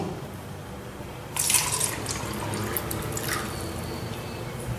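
Kangen 9.5 alkaline water pours into a glass, a close, steady splashing stream beginning abruptly after a quiet second and continuing to the end with bright dripping detail.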